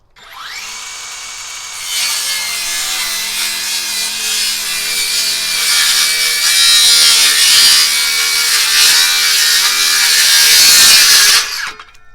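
A FLEX in-line circular saw rips through a 2x12 wooden board and its knot, the loud whining blade cut running steadily for about ten seconds with a vacuum adapter attached, then spinning down at the end.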